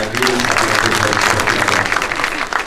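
A room full of people claps loudly and steadily at a SEDA funding pitch event for Thulamela Municipality, the applause sustained throughout with a few voices faintly mixed underneath.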